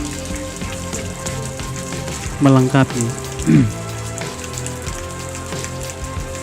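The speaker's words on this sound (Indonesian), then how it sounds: "Hujan pun semakin deras." Heavy rain pours down steadily on a surface, a dense continuous hiss throughout, broken briefly by a few louder tonal sounds and a short word of speech.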